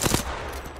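Burst of rapid automatic gunfire in a shooter video game, loud and close, opening with a couple of heavy cracks and trailing into a dense rattle, with no talking.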